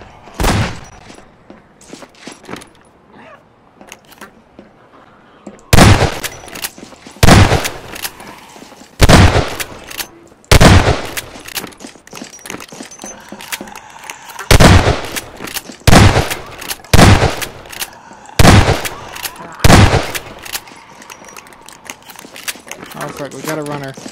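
Gunfire in a zombie shooter game, Combine Alliance versus zombies, rings out in loud, sharp bursts of repeated shots, mostly in the second half, with a voice talking over the action.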